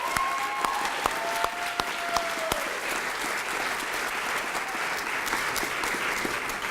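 An audience at a community college transfer ceremony gives a round of applause, steady dense clapping from many people in a hall with a few sharper individual claps standing out, while faint whistles or cheers rise briefly near the start.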